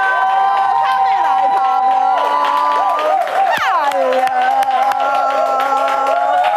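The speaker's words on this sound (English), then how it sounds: "I think he deserves a huge round of applause." Studio audience on a talk show bursts into loud, sustained cheering and applause as a guest is introduced, with whoops and shouts over steady clapping throughout, while musical tones run underneath.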